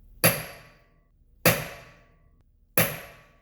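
A hammer strikes a punch driven into a locking wheel nut on a Fiat 500, giving three sharp metallic blows about a second apart, each ringing briefly before it fades.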